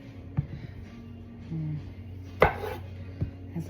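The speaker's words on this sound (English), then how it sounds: "so we're just cutting the big ones" A knife cuts washed tomatoes for tomato soup on a board, giving a few sparse, close taps and one sharper chop amid quiet kitchen background.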